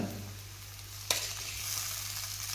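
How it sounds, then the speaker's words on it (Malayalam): Tapioca being stirred in a frying pan, a soft steady sizzle with scraping of the spoon and one brief sharp clack against the pan. "ഇനി ഇത് നമ്മൾ കപ്പ ആഡ് ചെയ്തിട്ടുണ്ട് ഇനി ഇത് ഇളക്കി കഴിഞ്ഞിട്ട്"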